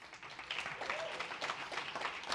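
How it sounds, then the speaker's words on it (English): Audience applause welcoming Rob Sherman, Meta's Vice President and Deputy Chief Privacy Officer, at an AI and social trust event: steady, fairly quiet crowd clapping sustained throughout without a break. "Ladies and gentlemen, please give a round of applause to Rob Sherman, the Vice President and Deputy Chief Privacy Officer of Meta."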